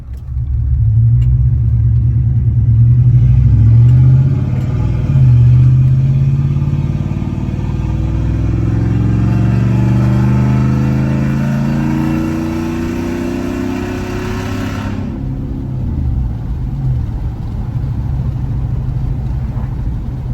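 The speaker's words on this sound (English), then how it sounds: "now I'm going to pull out onto the highway again, this time with the exhaust cutout open." A GMC Sierra pickup pulls onto a highway with its exhaust cutout open, giving a loud, near, deep engine roar that climbs through rising revs and shifts, then eases to a lower steady rumble.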